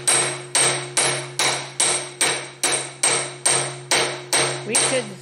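Steady, evenly spaced hammer blows ring out close and loud as a new seal is tapped down into its housing, about ten strikes in a row with a faint voice at the very end.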